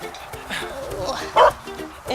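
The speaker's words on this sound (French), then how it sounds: "Donc ça, c'est des chiots qui ont 2 mois et 1 semaine maintenant." Two-month-old puppies at a vet clinic give short yips and barks, one brief louder burst mid-way, heard close by while people talk around them.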